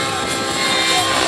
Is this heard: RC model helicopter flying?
yes